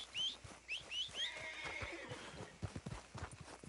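Several shrill horse neighs and whinnies in the video game Red Dead Redemption II, near and loud, followed by rhythmic clip-clop hoofbeats.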